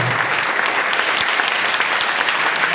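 A seminar crowd at a polytechnic college in Jammu claps loudly in a thick, continuous wash of applause that holds steady throughout, with no talk over it.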